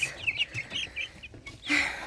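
Several Faverolles and Ross 308 broiler chicks, about a week old, cheep and make soft clucking chirps close by indoors, in short irregular bursts, with a louder cheep near the end.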